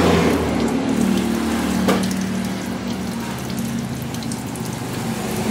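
Water drains out of a Samsung automatic washing machine with a fault, a steady close gushing and splashing with a low hum underneath, continuous and fairly loud with no talk.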